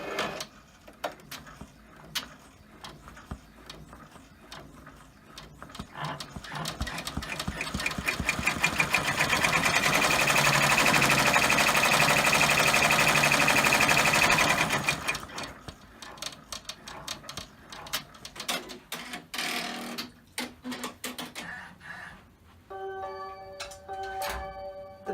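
An embroidery machine sews a securing run on an in-the-hoop tuxedo apron design, its needle chattering in a fast mechanical rhythm that swells louder midway, then trails into sparse ticks and a few tones near the end, with no talking.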